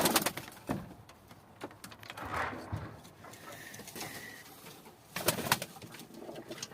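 Pigeons cooing at close range, low soft calls coming in a few separate bursts with short quiet gaps and faint rustling between them.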